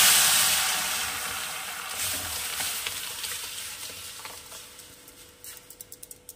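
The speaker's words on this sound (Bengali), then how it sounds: "এবারে আমি এই সিদ্ধ করে রাখা ডালটা দিয়ে দেব।" Boiled red lentils are poured into a hot pan with radish, with a loud sizzle that gradually fades to a softer bubbling, ending in a few light clinks and stirring taps.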